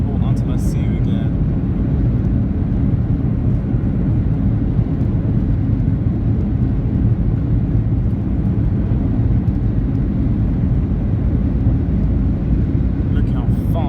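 Ryanair Boeing 737-8AS jet engines at full takeoff power, a loud, steady broadband roar filling the cabin without letup, with faint clicks and rattles at the start and end.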